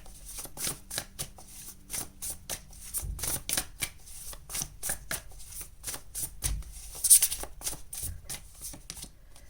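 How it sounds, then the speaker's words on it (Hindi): Tarot cards being shuffled by hand, a rapid run of crisp riffling flicks and slaps in a quiet room, close and fairly soft, with a few brief pauses between bursts. "चलिए यहाँ से आपके टैरो कार्ड्स निकालते हैं आपकी।"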